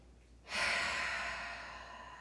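A person lying on a yoga mat takes one deep breath, a quiet pause followed by a long, breathy exhale through the mouth that starts sharply and fades slowly.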